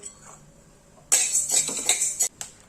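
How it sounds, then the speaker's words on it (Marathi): A quarter cup of wheat grains dry-roasting in a pan for metkut, a sudden close rattling sizzle of stirred grains lasting about a second, then a short final scrape after a quiet start. "आता त्यातच मी लगेच पाव वाटी गहू भाजून घेतेय।"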